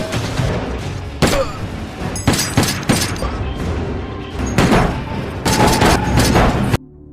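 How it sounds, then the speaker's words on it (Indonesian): Rapid bursts of gunfire from a group of tattooed men in a film action scene, loud heavy volleys and booming shots in several clusters, the last cut off abruptly into near silence. "tiba-tiba lalu disusul oleh sekelompok orang bertato, yang secara langsung menembakkan senjatanya ke arah John."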